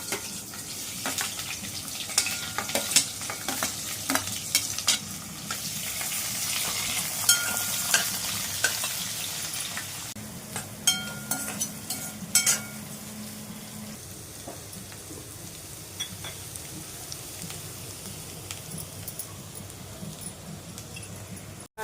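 Onion frying in oil with whole spices, cloves, black pepper and cinnamon, for veg pulao, a steady close sizzle with stirring scrapes and a few clinks, busier in the first half and settling to a softer hiss.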